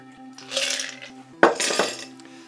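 A Negroni is poured through a Hawthorne strainer into a coupe glass, two short splashing pours with a faint clink against the glass, close and quiet.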